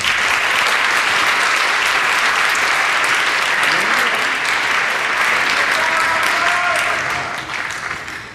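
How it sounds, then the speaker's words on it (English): A holiday strings concert audience applauds the beginning orchestra: loud, dense, continuous clapping that holds steady for several seconds before tapering off at the end. "Another round of applause for the beginning orchestra."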